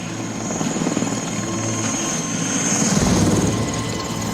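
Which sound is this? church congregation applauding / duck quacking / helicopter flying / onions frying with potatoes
helicopter flying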